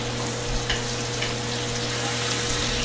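Diver sea scallops pan-roasting in foaming butter with garlic and fresh thyme sizzle and hiss steadily up close over a flame. Faint light clicks come through as the scallops are turned, with no talk.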